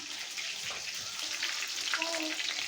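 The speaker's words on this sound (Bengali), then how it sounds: "মাংসগুলো আমার ভাজা হয়ে গেছে, ফুটুস ফুটুস ফুটতেছে" Chicken meat frying in a pan, a steady close sizzle with scattered pops and sputters throughout, plus a brief tonal clink near the end.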